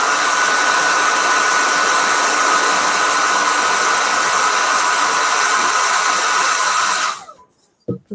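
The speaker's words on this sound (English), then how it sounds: "give it a quick blow dry" A hair dryer blows steadily and loudly for about seven seconds to dry wet paint on a cherry blossom tree painting, then cuts off abruptly, leaving near silence with a faint click.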